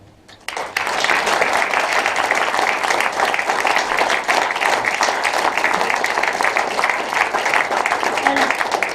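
Audience applause after a political leaders' debate in Llanelli, starting with a few claps and quickly swelling into sustained loud clapping from the room that continues to the end.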